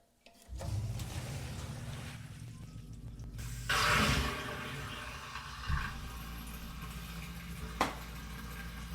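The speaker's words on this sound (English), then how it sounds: "I think might be enough water in there already, but I'm gonna pour this in there." Water is poured into a basement sump pit, starting with a gurgling splash and rushing flow. A low mechanical hum runs underneath, with a few bumps and clunks.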